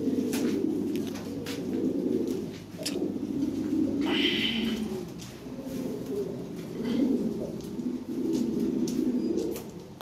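Several Lahori Sirazi pigeons coo in low, throaty pulses near a loft, with a brief flutter of wings partway through and a few small chirps over the cooing.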